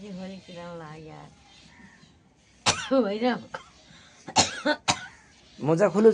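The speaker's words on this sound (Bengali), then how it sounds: "কেন কাশি লাগতেছে" A sick person coughs several times in sharp, harsh bursts among stretches of nearby conversation.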